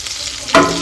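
Onion hits hot butter and oil in a pan and sets off a sudden loud burst of sizzling close by. It follows a moment of quieter crackle.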